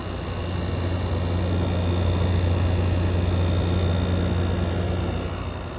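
Air conditioner running in cool mode, its fan motor and compressor giving a steady, loud drone with a low hum throughout, no voices.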